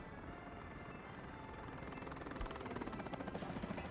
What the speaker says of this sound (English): I must admit, I'm really hooked on using helicopters now